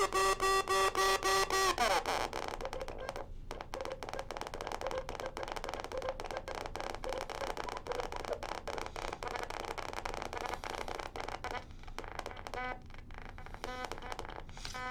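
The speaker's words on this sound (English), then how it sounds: "now you can hear this really high-pitched oscillator right here" A high-pitched oscillator on a modular synthesizer sounds as rapid rhythmic pulsing tones at first, then turns into dense crackling, clicking bursts that run on steadily at a moderate level.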